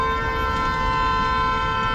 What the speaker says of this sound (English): Who's honking and why?